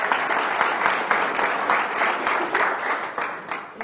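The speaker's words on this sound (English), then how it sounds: "Give him a round of applause by way of encouragement." Audience applause for a volunteer on stage at a TEDx talk in Portsmouth, a lively round of clapping with distinct claps standing out, swelling and easing slightly before tapering toward the end.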